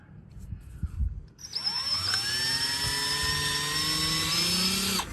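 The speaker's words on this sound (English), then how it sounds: "I'm using this box to pre-drill." A power drill spins up with a rising whine and runs at a high, steady pitch for several seconds before stopping, close and loud, pre-drilling holes in an RV wall.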